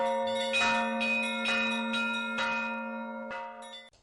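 Church bells peal in a rhythmic pattern, several overlapping strikes over a sustained low hum of ringing bronze, loud and near with long resonant decay, no voices.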